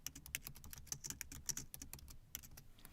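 Fingers type rapidly on a computer keyboard, a quick irregular series of crisp, close clicks with short pauses between bursts, faint and with no talk.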